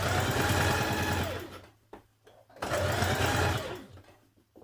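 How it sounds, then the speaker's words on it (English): A sewing machine stitches around the facing of a wide-leg trouser, running in two steady bursts of about two seconds each with a short pause and a few clicks between them, close and fairly loud. "You're going to stitch all the way around."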